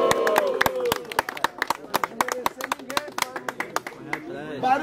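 Crowd at a Brazilian rap battle final claps in quick uneven bursts of sharp hand slaps, close and loud, with voices shouting and talking over the clapping.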